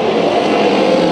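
Race cars roar around the dirt oval at Bakersfield Speedway during a 15-lap B main at the Bud Nationals, a loud, dense, continuous engine drone with no voices over it.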